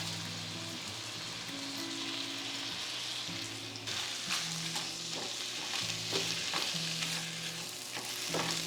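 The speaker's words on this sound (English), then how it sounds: "add in my rice, and that's just so it can toast up a little bit before adding all the other stuff" Rice toasts in sausage oil in a pan with a steady, close sizzle, and a spoon scrapes and stirs through it at a regular pace.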